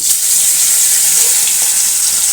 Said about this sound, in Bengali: তো তেলাপিয়া মাছটা এখন ভাজা করি